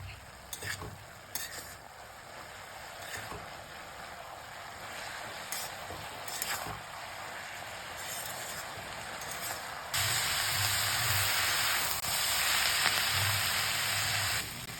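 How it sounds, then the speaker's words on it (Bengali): Cabbage greens stirred and fried in a pan, a steady sizzle with scraping stir strokes throughout, growing louder and brighter in the last few seconds as the frying intensifies; no voices. "বেশ অনেকক্ষণ ধরে এটাকে আমি নেড়ে চেড়ে নিচ্ছি"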